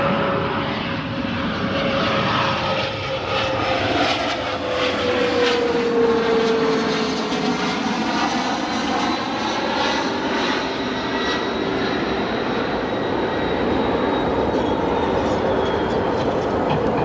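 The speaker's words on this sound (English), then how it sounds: "Our next arrival, Mitsubishi CRJ 200 long range from Tulsa." Mitsubishi CRJ 200 long-range jet airliner arriving at O'Hare International Airport, its engine roar loud and sustained with a slowly falling whine as it passes.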